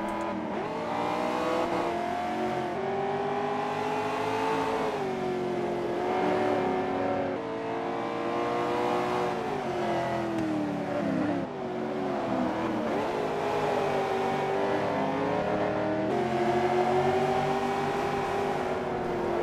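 Corvette Z06 Cup race cars at Road America, engines roaring loud and continuous as they come through a turn, with rising and falling revs and shifts, close and with no voices.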